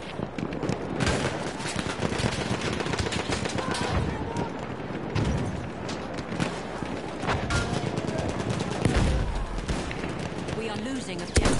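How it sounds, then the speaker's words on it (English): Enemy machine guns rattle in a World War One video game, rapid overlapping bursts of automatic fire mixed with scattered single shots and heavy booms, loud and relentless throughout. "Enemy machine gun!"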